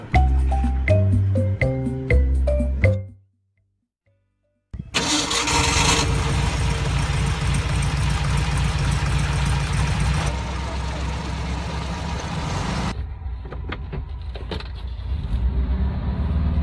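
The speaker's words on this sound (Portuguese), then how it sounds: "Bom, galera, estamos saindo com carro manguia 62" A 1962 Karmann Ghia coupe with a 1200 cc engine cranks over and starts after a short silence, then settles into a loud, rough idle close by.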